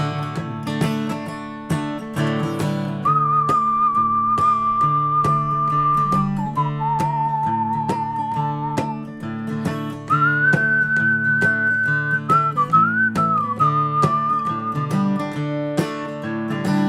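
A clear whistled melody carried over a backing of instrumental music, the tune held in long sustained notes.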